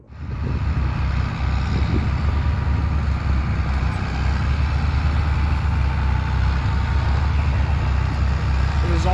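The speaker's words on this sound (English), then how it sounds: "let's head out and we'll see the tractor doing its thing" A tractor drives through an almond orchard field, marking planting rows. Its engine drones as a steady, loud low rumble, unbroken throughout, with a faint airy wash above it.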